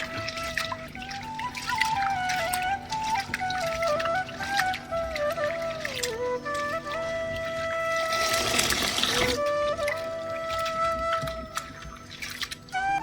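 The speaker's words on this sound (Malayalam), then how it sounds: "ഇതിലോട്ടുള്ള ഐറ്റംസ് എല്ലാം കൂടി നന്നായിട്ട് നല്ല വെള്ളം തെളിയണ വരെ ഒരു 3-4 വട്ടം നന്നായിട്ട് കഴുകി ക്ലീൻ ആക്കി എടുക്കണം" Rice, cashews and almonds being rinsed in water several times, with soft trickling, pouring and sloshing of water that rises briefly into a louder splash, faint and close, with a quiet tonal background.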